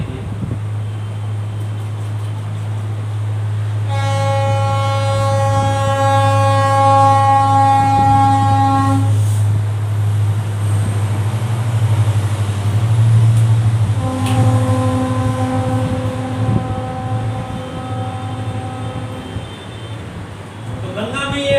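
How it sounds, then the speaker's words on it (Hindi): A train passes nearby with a steady low rumble throughout, broken by two long, loud horn blasts a few seconds apart. "रुक जाइए ट्रेन निकल जाने दीजिए।"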